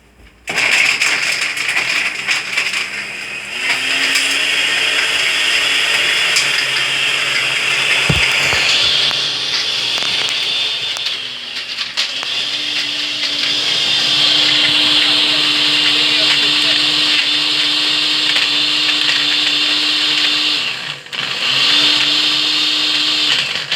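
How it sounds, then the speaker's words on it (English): A small blender whirs through a batch of salad dressing, a loud steady motor whine running almost continuously with a brief pause midway and pitch shifts as the load changes. "I'm just going to blend it up in my little fancy blender"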